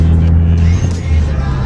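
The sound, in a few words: Mitsubishi Evo X car engine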